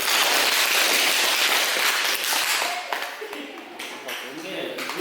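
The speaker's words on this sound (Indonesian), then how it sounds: "Tepuk tangan." A classroom group claps for a university science lesson on cells and microscopes, brisk scattered clapping that fades into softer taps, with a voice speaking faintly over it.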